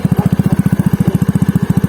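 A stock-engine Yamaha Mio Sporty motorcycle, old model, idles close by with a steady, rapid low putter of even pulses and no talk.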